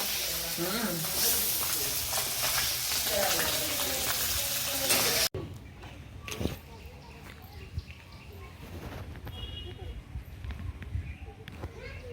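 A thin fish curry with potatoes simmers in a pan, giving a loud, dense bubbling hiss for several seconds before it drops to a quieter background with a voice and scattered knocks.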